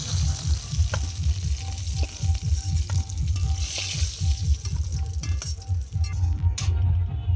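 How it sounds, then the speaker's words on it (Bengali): Fish fries in hot oil with a loud, steady, close sizzle and crackle throughout, with occasional light clinks and no talking. "মাছটা খুব ভালো করে লাল লাল করে ভেজে নিয়েছি"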